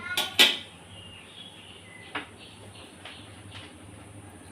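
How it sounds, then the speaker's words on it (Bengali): A metal kadai is set down on a gas stove with a couple of sharp, close clanks at the start, followed by faint scattered clinks over a low burner hum. "এবার আমি গ্যাসে কড়াইটা বসিয়ে দিলাম"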